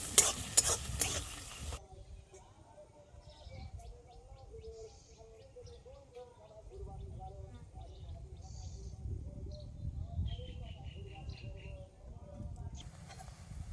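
Chopped onions frying in hot oil while shrimp and ridge gourd are being cooked, a steady low sizzle with occasional stirring scrapes, birds chirping faintly in the background and a loud burst at the start.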